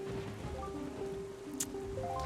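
Steady rain falls through a night scene in The Legend of Zelda: The Wind Waker, a continuous wash of patter with soft game music tones running beneath it.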